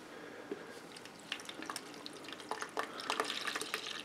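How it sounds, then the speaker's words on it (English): Lukewarm water poured gently into a yeast and sugar mixture for a bedbug trap: a faint, close, uneven trickle and splash for a few seconds. "then we're going to gently add warm, lukewarm water,"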